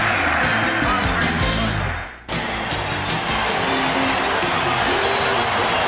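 A capacity basketball crowd at the Richfield Coliseum during the 1992 Bulls versus Cavaliers playoff game keeps up a constant, dense roar and murmur that briefly dips before surging back.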